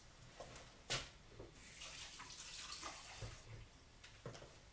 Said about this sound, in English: Now, looking at the celery, I'm just going to have to wash this.